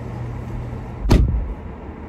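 A car on the road: a low, steady cabin rumble is cut by a single sharp, loud whoosh or thump just past the middle, then settles back to the hum.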